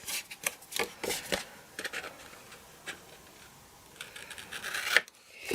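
Close, crisp snips of scissors cutting card for a handmade pull-and-flip greeting card, a quick irregular series of short cuts with brief pauses between them.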